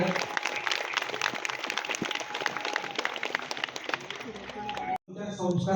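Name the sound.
audience applauding for army jawans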